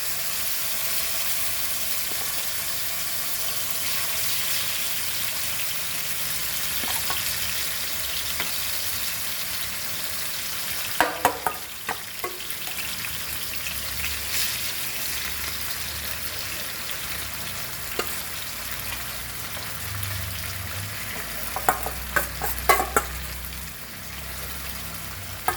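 Mutton gizzard pieces frying with masala in a pan over a low gas flame, a steady soft sizzle running throughout with a few brief clinks and scrapes from stirring.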